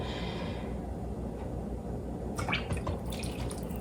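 Strong chilled brewed coffee is poured over chocolate crazy-cake batter, with a soft liquid trickle and a few splashy drips near the end over a low steady background.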